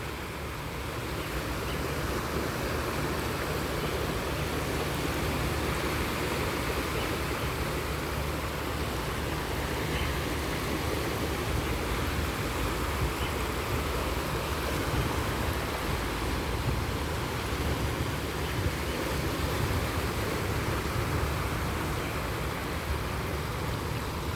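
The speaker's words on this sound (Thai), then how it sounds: "ฟังเสียงคลื่นไปแล้วกันนะคะเพื่อนๆเพลินยามเย็นนะคะ" Steady wash of ocean surf breaking on the shore in Hong Kong at evening, a continuous broadband hiss with gentle swells, moderately distant and uninterrupted by voices.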